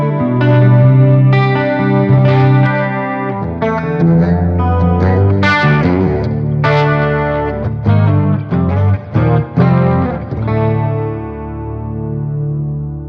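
Electric guitar through a Zoom G3X HD multi-effects pedal on its detune effect plays a sequence of chords and notes with a shimmering, doubled, chorus-like tone, loud and close, ringing out at the end.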